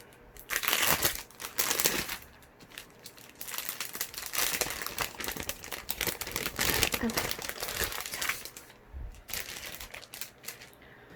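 A gift package is torn open and unwrapped up close, with loud bursts of crinkling and crumpling wrapping and occasional tearing, while a person talks in between.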